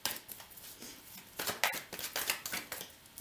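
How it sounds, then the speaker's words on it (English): Tarot cards being shuffled by hand during a reading, a soft, close papery riffle and flutter coming in uneven bursts, quiet and alone with no talking. "I'm just kind of gazing lightly as I am shuffling here at these cards"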